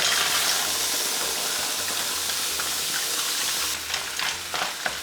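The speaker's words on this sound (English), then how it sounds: "Place the pan on a hot hob and wait until the garlic starts sizzling" Garlic sizzles loudly in a hot pan on a hob, a steady crackling fry, before fresh Scottish mussels are tipped in and stirred, adding rattling shell clatter toward the end.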